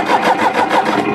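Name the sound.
tractor engine being started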